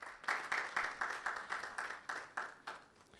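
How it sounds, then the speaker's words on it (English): Audience applause at a televised national science and maths quiz balloting event, steady clapping from a crowd with rhythmic surges, moderately near and without talk. "Please, another round of applause for Primetime, ladies and gentlemen"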